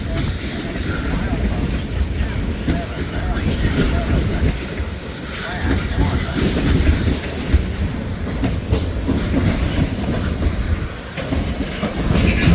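Long autorack freight train rolling past on a cold, windy morning in Hamilton, a loud, steady rumble of wheels with rhythmic clickety-clack and wind noise, passing close and continuing throughout.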